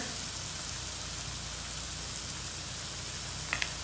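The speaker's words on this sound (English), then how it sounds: "Now that it's sauteing" Beef and vegetables sautéing in a hot pan for a mu shu beef stir fry, a steady close hiss and sizzle with a couple of faint clicks near the end.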